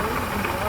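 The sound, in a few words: truck engine idling roughly with vacuum leak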